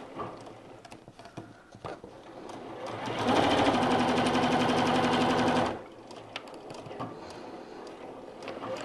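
Sewing machine running a lock stitch, a rapid steady mechanical chatter that starts after some quiet handling noise, runs for about two and a half seconds, then stops.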